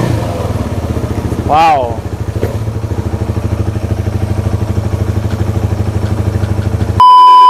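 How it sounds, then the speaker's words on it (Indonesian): A KTM Duke 250 ABS motorcycle engine idles with a steady low rumble, revs once sharply, then a brief electronic beep tone at the end; a voice exclaims briefly. "kita barusan sudah test ride dari motor KTM Duke 250 ABS ini"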